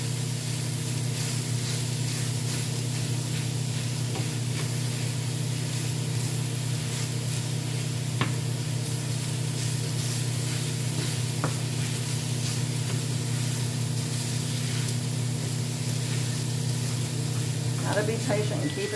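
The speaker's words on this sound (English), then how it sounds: "I don't know if you can hear it sizzle." Continuous loud hiss and crackle of meat sizzling in a hot frying pan, steady throughout with a few faint clinks and scrapes.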